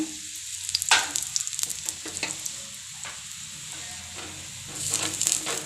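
Gram flour pudla batter fries in oil on a pan, a steady close sizzle and hiss with a few soft scraping stirs and clinks, louder toward the end.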